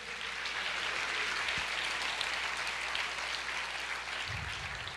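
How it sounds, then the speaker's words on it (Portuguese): Church congregation applauding the Lord during a sermon, a steady, fairly distant wash of many hands clapping, even and unbroken throughout. "Você pode aplaudir o Senhor"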